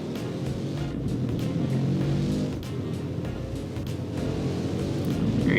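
A car driven in Roblox Southwest Florida, its engine droning steadily with a low, rough growl and slight rises in revs, close and continuous with no talking over it.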